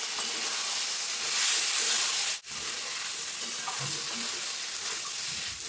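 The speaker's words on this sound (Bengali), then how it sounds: "এবার ভেজে রাখা আলু আর সয়াবিনগুলো দিয়ে দেবো দিয়ে সুন্দরভাবে কষিয়ে নেবো মশলার সঙ্গে" Fried potatoes and soybeans stirred into spice paste in a pan, a steady close sizzle with occasional scraping stirs and a brief break midway, no talking.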